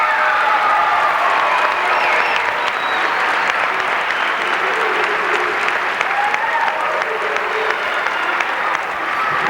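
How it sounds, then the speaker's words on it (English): Sustained, loud applause fills the hall at a children's dance theatre concert, a thick continuous roar of many hands clapping with faint cheering woven through. "I want you to give them a round of applause."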